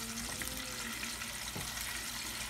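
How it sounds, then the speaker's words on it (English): Chicken frying in bubbling grease inside a Fry Daddy electric deep fryer, a steady close hiss and crackle of oil running evenly throughout with no talking. "So right now, as I put chicken in here, I'm just watching my grease. Is the grease slowing down? Is it still bubbling good?"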